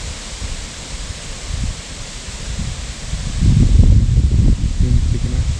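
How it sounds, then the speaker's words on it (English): Wind blows across an outdoor shooting range, buffeting the microphone with a low rumbling roar that gusts stronger toward the end. "Wind's picking up."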